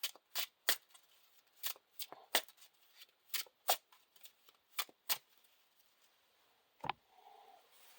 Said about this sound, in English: happy we can shuffle our deck